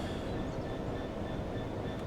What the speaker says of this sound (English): So this is the Flying Scotsman being really tested here.